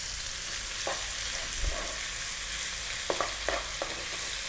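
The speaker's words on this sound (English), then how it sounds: "We're going to drop in 1 large onion and 1 tablespoon of garlic ginger paste." Onion and garlic ginger paste fry in a pan over above-medium heat, a soft continuous sizzle with a few faint clicks of stirring, quiet and steady with no talking.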